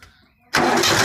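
A Mahindra or Massey tractor engine cranks and fires midway after a quiet moment, then runs loudly at a steady roar close by.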